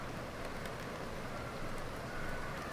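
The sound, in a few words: rain falling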